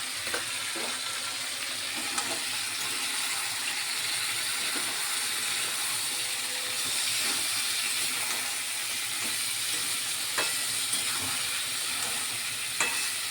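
Poppy seed paste with drumsticks and potato cooks in a pan with a little water, giving a steady wet sizzle and hiss broken by periodic spatula stirs and scrapes, close up, no voices.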